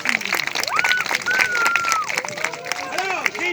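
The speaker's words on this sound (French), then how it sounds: "On l'applaudit très très fort." An audience at a fools' festival show applauds after a magic act, with dense clapping and crowd noise while a voice with gliding, sing-song pitch carries over the top.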